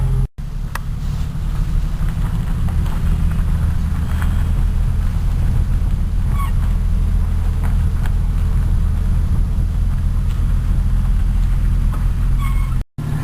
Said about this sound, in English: I'm not so used to driving when it's ice and snow on the roads, so it's a little bit nervous